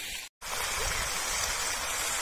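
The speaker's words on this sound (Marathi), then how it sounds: "बघा कसं खळखळ पाणी वाहते नदी सारखं" Water gushing out across a farm field like a small river, a steady broadband rush with one brief dropout near the start, moderately loud and without talk.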